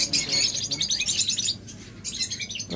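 Lovebirds kept in cages at a bird sale chirp and tweet in a dense, continuous flurry of bright calls, loud and close, with a short lull partway through before the chatter resumes.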